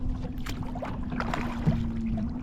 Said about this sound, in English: And let's get to paddling.